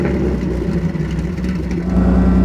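A 1928 Mercedes SSK with a supercharged 7.1-litre engine runs close by, a deep, steady rumble holding at a fairly constant level for a couple of seconds with slight surges, no voices over it.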